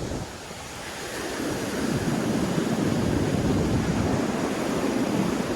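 Ocean surf rolling onto a beach at Vero Beach, a steady wash of breaking waves that swells louder after the first seconds, with wind buffeting the microphone and no voices.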